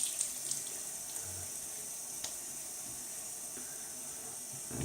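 Running tap water hisses steadily at a sink while a face is wetted before a shave, a faint, even flow with a few soft splashes and nothing else over it.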